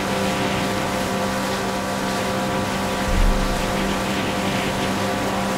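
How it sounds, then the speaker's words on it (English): Jet ski engine droning in the video game Far Cry 5, a loud steady motor hum with a brief surge and thump midway, continuous throughout. "good thing we found this jet ski. It's way better than the other boat."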